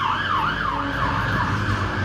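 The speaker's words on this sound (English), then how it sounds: "sorry, that was the fire engine." A loud wailing siren sweeps up and down in a steady repeating cycle, close and continuous, over a low engine rumble.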